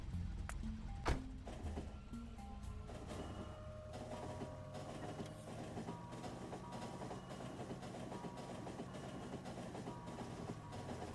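Train running on rails in the video game Factorio, a faint steady rumble with clicking, a sharp clank early on and then an even drone to the end.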